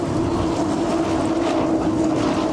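Two-stroke XCAT racing powerboat engines pass at a Grand Prix in Abu Dhabi, giving a steady, loud, buzzing drone mixed with wind noise. No voices are heard over it.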